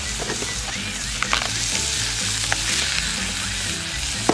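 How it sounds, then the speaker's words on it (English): Meat for a teriyaki cheesesteak sub laid on a lightly oiled grill sizzles in a dense, continuous close-up fry with a few faint clicks and taps throughout, no voices. "Just a little bit of oil on the grill. Put the meat right on there."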